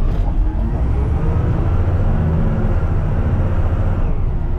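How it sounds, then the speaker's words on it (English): A garbage truck driving fast on the right side, a loud, steady low rumble of engine and road noise that continues unbroken throughout. "See how fast the garbage truck goes."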